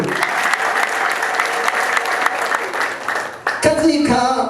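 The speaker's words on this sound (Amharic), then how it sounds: "ለጌታ ክብር፣ ለቃሉ ክብር አጨብጭቡ።" A church congregation claps in sustained, dense applause that fades briefly near the end, and then talking or singing voices come in over it.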